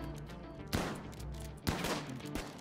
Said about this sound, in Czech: No to všechno střílí do toho.